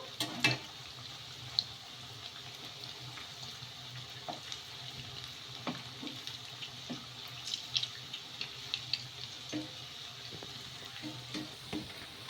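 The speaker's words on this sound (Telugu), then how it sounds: "హైలో పెట్టేసుకొని ఫ్రై చేసేసుకోవాలి అండి" Rava puri bondas frying in oil on high heat, a soft, continuous bubbling sizzle with light scattered crackles and faint stirring clicks at moderate distance.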